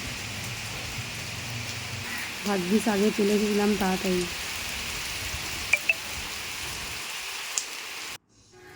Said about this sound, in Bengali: এই দেখো দেখেছ প্রচুর পরিমাণে বৃষ্টি আরম্ভ হয়ে গেছে দেখো